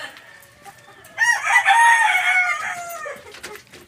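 A rooster crows once, loud and close, among chickens in a backyard, with soft clucks and faint background noise around it.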